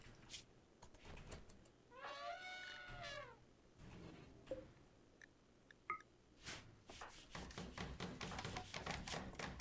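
A house cat meows indoors in a drawn-out, wavering cry of a few seconds, fairly close, with clattering handling noises and rustling before and after.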